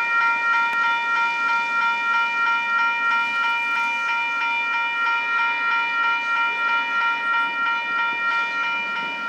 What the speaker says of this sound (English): We got a northbound BNSF coming.